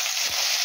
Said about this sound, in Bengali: রসুন, কাঁচা লঙ্কা আর পাতাটা খুব ভালো মতো তেলের সাথে ভাজা হয়ে গেছে